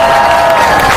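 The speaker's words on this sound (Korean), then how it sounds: "큰 박수로 함께 모셔봤으면 좋겠습니다" A rally crowd applauds and cheers at a candlelight protest rally, a loud, dense wash of clapping filling the short moment without a break.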